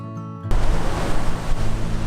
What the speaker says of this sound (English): we're standing here amongst the breeze, the ocean spray, and hundreds upon hundreds of coconut trees